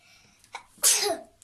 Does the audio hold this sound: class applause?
no